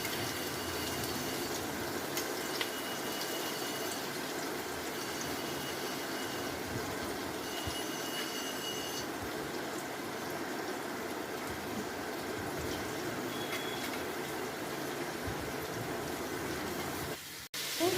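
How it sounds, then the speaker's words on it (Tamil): Sliced onions sauté in hot oil for chicken biryani, giving a steady, dense sizzle that holds evenly for the whole stretch with no talk over it. "வெங்காயம் நல்லா வதங்குதா?"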